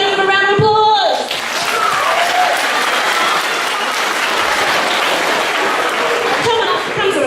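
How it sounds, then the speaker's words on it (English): An audience at a live science show breaks into a sustained round of applause for volunteers, dense and loud crowd clapping that continues steadily throughout, with a brief voice at the very start. "Right, everybody give them a round of applause."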